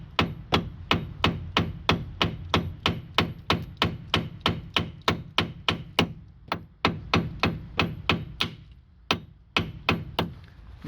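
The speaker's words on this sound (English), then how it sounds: "I will just tap in really nice torque 40 here." A hammer taps a Torx socket into a stripped brake rotor screw on a Renault Megane in a quick, even series of about thirty sharp metallic strikes, close and loud, with two brief pauses late in the sequence.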